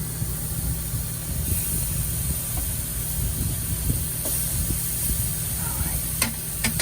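Tuna steak seasoned with olive oil and seafood seasoning sizzles on a hot griddle, a steady broadband hiss with low crackling pops, continuous and close.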